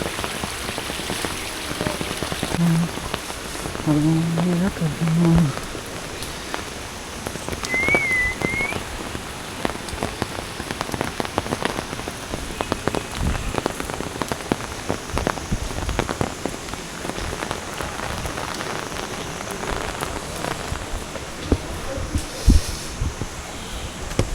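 Steady rain patters on surfaces outdoors at the Kullu Dussehra festival in the Himalayas, a constant dense loud wash that runs throughout, with a few faint tonal chirps in the background.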